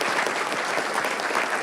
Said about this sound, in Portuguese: E aí eu vou pedir uma salva de palmas para ele